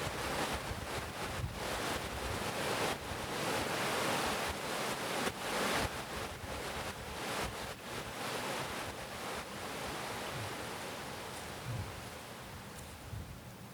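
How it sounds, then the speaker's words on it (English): Ocean waves wash and splash in gusty wind, a broad rushing hiss with rhythmic surges and wind buffeting on the microphone, with no voices. "I get to enjoy the calmness of the waves splashing. I get to feel the wind blowing on my face."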